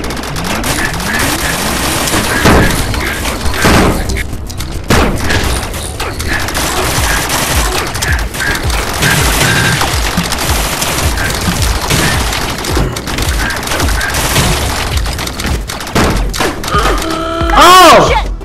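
Rapid bursts of gunfire crackle through a Rec Room virtual reality match, loud and dense with thuds and booms mixed in, while players talk and shout over the shooting.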